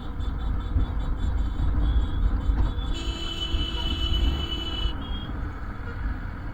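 Dense, slow-moving road traffic on an Indian highway near Agra rumbles steadily at a moderate distance, with a sustained horn blaring for a couple of seconds midway; no one speaks.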